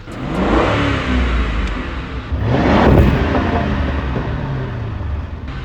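A police car's 4.6 liter V8, in a wrecked car with the hood open, revs hard from idle, climbing to a loud roaring peak and then settling into a sustained high rumble close to the listener.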